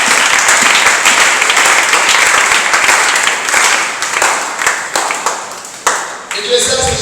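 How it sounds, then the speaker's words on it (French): A church congregation applauds during a prayer service, with loud, dense clapping from many hands that gradually thins into scattered claps, and a voice heard over it. "Que les enfants de Dieu acclament pour la gloire de Dieu."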